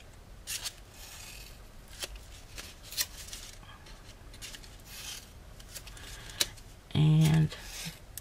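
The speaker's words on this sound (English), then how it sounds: "let's go ahead and make all these little slits, and you're cutting up to the score line like this" Scissors cutting small slits into cardstock up to a score line for a hexagon candle holder gift box, a few quiet snips and rustles spread across the clip with one brief louder click near the end.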